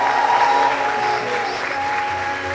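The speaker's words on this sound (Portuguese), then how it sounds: "Recebam com uma salva de palmas Gustavo Molina." An audience at a Portuguese-language talk on customer success data applauds to welcome speaker Gustavo Molina, with a steady wash of claps that eases off slightly partway through.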